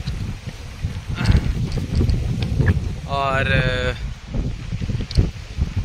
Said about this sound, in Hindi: भाई इतनी तेज़ हवा चल रही है कि वीडियो मैं बना नहीं पा रहा हूँ